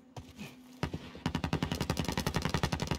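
Call of Duty Modern Warfare gameplay gunfire: a couple of isolated shots, then a steady, evenly spaced automatic burst firing rapidly and loudly to the end.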